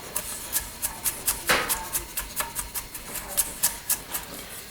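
Mushrooms are rough-chopped with a knife on a cutting board, a quick, steady run of crisp, close taps repeating several times a second.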